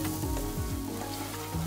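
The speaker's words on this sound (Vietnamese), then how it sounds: "Làm nóng dầu thì mình sẽ phi thơm gừng băm và một ít tỏi băm." Minced ginger and garlic sizzle steadily in hot cooking oil in a pan, a continuous close frying hiss with faint crackles throughout and no talking.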